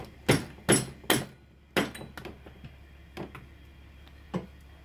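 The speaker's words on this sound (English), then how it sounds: "hammer this one on." Several sharp metallic hammer taps on a center support bearing dust cover of a car driveshaft, three quick strikes then scattered lighter knocks with pauses between, close by and fairly loud.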